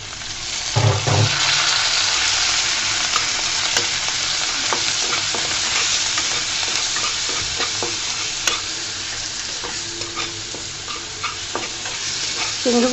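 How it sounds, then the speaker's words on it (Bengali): Dried shrimp frying in oil with browned onion and garlic, a steady close sizzle with scraping stirs and occasional louder clatters throughout. "চিংড়িগুলোকে দিয়ে আমি 2-3 মিনিট মতো ভেজে নেব তেলের মধ্যে"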